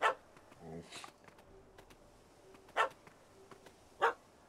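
A dog in The Witcher 3 barks several times, loud and sharp, spaced out over a quiet ambient background, with one shorter lower yelp among the barks.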